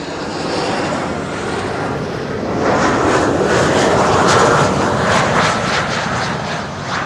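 A German Airways airliner arriving from Barcelona comes in to land, its jet engine roar building from a steady hum to a louder, fuller rush as it nears, then easing slightly.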